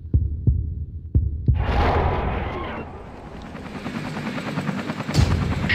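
A helicopter in the video game No One Lives Forever: a few sharp thumps, then a loud, close rotor whir and throb that holds steady and swells again near the end.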